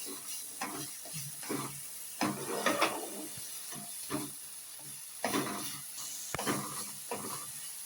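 Liver sautéing in a pan gives a steady close sizzle, broken by repeated scraping and stirring strokes throughout.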